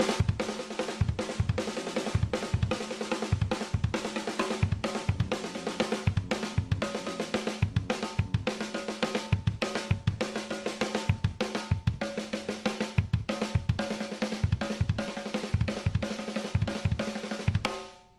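A drum pattern split between snare and kick drum plays as a fast, steady run of sharp hits over about eighteen seconds, clear and alone with no voices.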